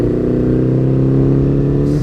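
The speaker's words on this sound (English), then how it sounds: "I mess up this corner and gear change a bit." A 1950s Ariel SQ4 motorcycle engine revs hard through a corner, a loud, close, steady drone whose pitch holds then slides as the gear changes near the end.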